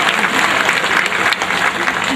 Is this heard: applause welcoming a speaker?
yes